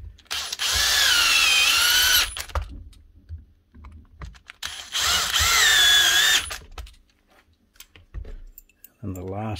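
A power tool drives bolts and machine screws into the housing of a Bosch demolition hammer during repair, with two loud, close whirring runs of about two seconds each separated by pauses and clicks of handling.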